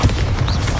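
A short, loud Bombarda spell explosion from Hogwarts Legacy: one deep boom that hits at once and then rumbles on briefly.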